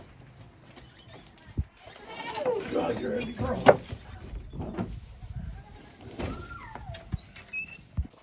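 Goats bleat now and then as they are unloaded into their pen at a new homestead, mixed with thumps, shuffling and a door, while people talk close by.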